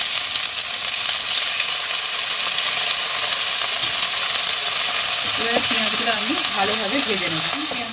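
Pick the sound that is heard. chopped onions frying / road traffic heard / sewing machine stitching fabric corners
chopped onions frying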